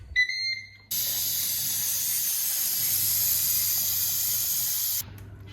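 Ninja Foodi pressure cooker, used for cooking pasta, venting steam on quick release: after a couple of short beeps, a loud, steady high hiss rushes out for about four seconds, then cuts off abruptly.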